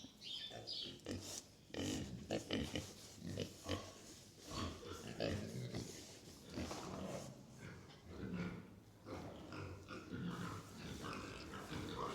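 Farm pigs worked up in their pen during cold mud season let out a continuous chorus of loud squeals, grunts and oinks, close and overlapping for the whole stretch.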